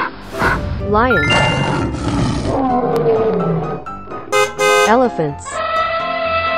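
A lion roars loudly in a playful animal-transformation setting, with rising and falling tonal sweeps and bright chiming effects layered on top. No one speaks.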